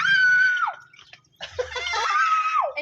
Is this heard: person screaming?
yes